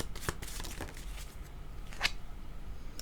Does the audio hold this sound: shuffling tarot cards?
yes